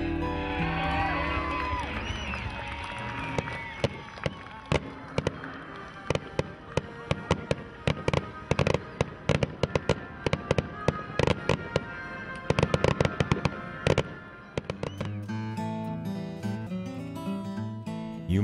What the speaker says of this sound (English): An afternoon of music, games, and races is followed by one of the most spectacular fireworks shows anywhere.